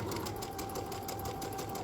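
A sewing machine stitching a trouser hem, running at a steady even pace for under two seconds, fairly quiet and continuous with no voices.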